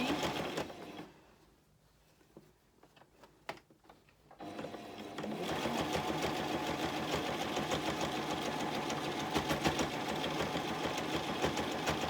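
Sewing machine running a rolled hem with a 4mm twin needle, starting with a fast whir, slowing to soft uneven ticks, then settling into a loud, continuous high-speed buzz of stitching.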